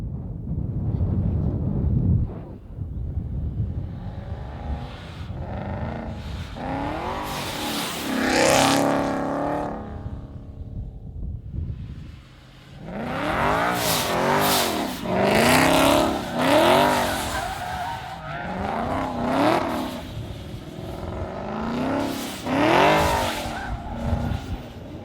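A car roars through revs with tire squeal and skidding, recorded for the Need for Speed racing game, its muffler miked closely; loud surging passes come in bursts with brief lulls between, no talk.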